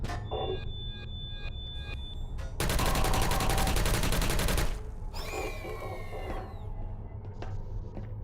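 Portal sentry turrets firing in a dense, loud burst of rapid shots lasting about two seconds, set among quieter game ambience with beeps and sweeping electronic tones before and after.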